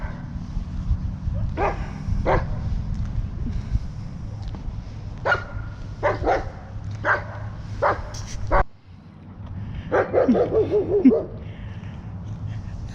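A shepherd and Malamute mix dog barks outdoors at some distance, giving a series of single woofs spaced a second or so apart, then a burst of quicker yips and howling barks over steady background hum.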